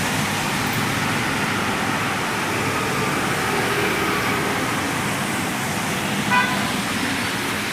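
Vehicles pass over the Moochikkal underpass on NH 66 at Randathani in rainy weather, a dense, steady roar of close traffic with a brief horn toot near the end.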